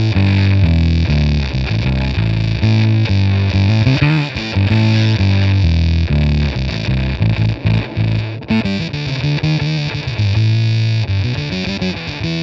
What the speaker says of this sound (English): it runs into the Digitech Bass Synth Wah, which is probably the best 30-40 quid anyone can spend on a pedal